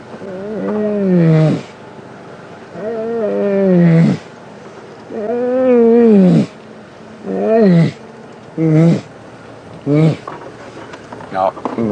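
A human voice imitates a lion's roar on a live safari drive, with a series of loud, drawn-out moaning calls that shorten and quicken toward the end, close to the microphone.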